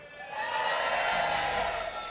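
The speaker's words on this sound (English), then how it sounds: "Give us a cheer if you think Professor Plum did it." A live audience cheering and whooping together, a sustained broad crowd roar that holds steady for a couple of seconds.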